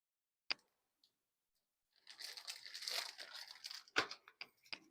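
Club crackers being crushed by hand for pimento cheese, a few isolated clicks followed by a soft burst of crinkly crumbling and crackling, then several sharper snaps, quiet and close.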